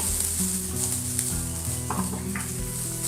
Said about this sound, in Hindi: ये हम लहसुन को सिर्फ इतना ही भूनेंगे कि इसकी जो स्मेल है वो ख़त्म हो जाए